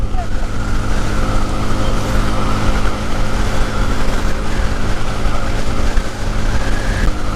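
A motorbike is ridden at 90 speed, giving a loud, steady engine drone with a sustained mid-pitched whine and heavy wind rush throughout.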